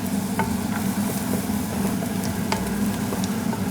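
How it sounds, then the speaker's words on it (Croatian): Onion frying in a pan gives a continuous, close sizzle with light scattered crackles and stirring scrapes, steady and with no talking. "I evo kad se luk počeo ovak fino lijepo prži"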